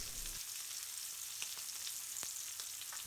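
Ground turmeric, curry powder, coriander and cumin fry in hot oil for a British Indian restaurant-style balti, giving a steady, soft, even sizzle throughout with faint crackles and no voices.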